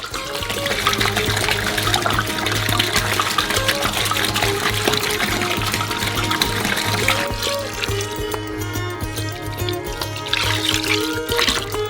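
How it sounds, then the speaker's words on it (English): Water pours and splashes steadily into a basin of giant gummy worm mixture, loud and close, easing slightly near the end before picking up again. "When everything is stirred really well, pour in the remaining water."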